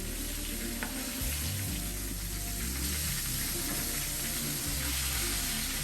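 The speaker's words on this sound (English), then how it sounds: "I love to hear the sound of food frying" Food sizzles and fries steadily in a pan, loud and close, with occasional low clunks of stirring or utensils against the pan and no talking.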